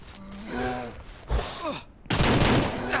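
A burst of gunfire in the game Ranch Simulator, a few sharp shots and a heavy volley, with electronic tones and sound effects around them.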